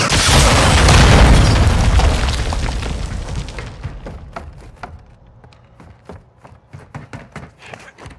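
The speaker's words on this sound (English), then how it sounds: "Hostiles launched a cruise missile." A cruise missile detonates in Call of Duty Modern Warfare 2 multiplayer: a loud, close booming blast that rolls and rumbles for several seconds, then thins into scattered crackling debris pops and distant bursts.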